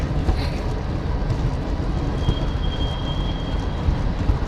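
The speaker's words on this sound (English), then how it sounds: "Train, train, train." A train crosses a railway bridge overhead while a cyclist rides beneath it on a spring commute, making a steady, loud rumble mixed with wind noise throughout.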